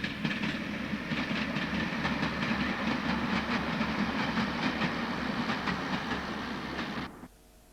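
A train on the Barton-on-Humber branch line rolls past with steady rumbling and rhythmic clickety-clack of wheels on rail joints, fairly close and continuous before cutting off abruptly near the end; no voices.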